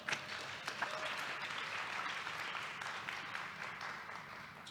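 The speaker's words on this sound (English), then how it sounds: "Would you please give them a big round of applause?" An audience at a corporate roundtable panel event applauds, a faint, distant, continuous patter of many hands with no individual claps standing out.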